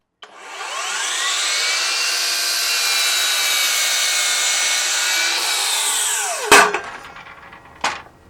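A saw slices through lumber being cut to reinforce a weak staircase, with a steady, loud, whining cut of about six seconds that winds down, followed by a couple of sharp knocks.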